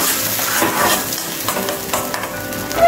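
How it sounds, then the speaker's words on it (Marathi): Satara ghati masala splashed with water sizzles in a pan for a Maharashtrian mutton curry, a close, steady crackle broken by scraping strokes of a spoon stirring it, with no talking. "आणि आता त्याच्यामध्ये थोडंसं असं पाणी मसाल्याचं टाकून व्यवस्थित असं परतून घेणार आहे"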